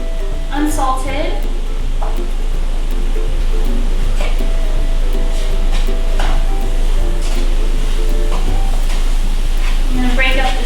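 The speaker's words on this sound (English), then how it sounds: "Just gonna keep stirring this up until the butter melts." Sugar and unsalted butter, with a little vanilla extract, get stirred in a pan as they melt; a spoon scrapes and taps close up in a busy, steady stream over a constant low hum.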